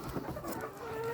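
Hens on a small poultry farm cluck and murmur together, a dense close flock of overlapping calls over a steady background with no talk.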